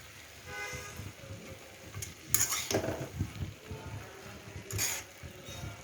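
Mixed vegetable stir-fry with chopped coriander being stirred gently: soft scraping and a couple of brighter clinks of a spoon on the pan, with a faint sizzle underneath, close by.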